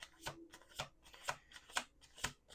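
A tarot deck is shuffled by hand, giving five or six soft, evenly spaced riffling bursts close to the microphone in a quiet room.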